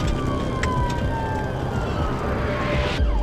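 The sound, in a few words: ambulance siren arriving at the scene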